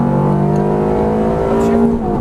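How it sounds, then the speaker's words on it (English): A Ferrari F430 F1 on the Exotics Racing track in Las Vegas accelerates at full throttle, its engine close and loud with a steady, slightly rising high-pitched howl. "Start adding some power. A little more, full throttle."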